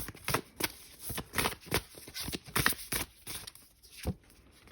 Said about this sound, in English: Let's pull a card here.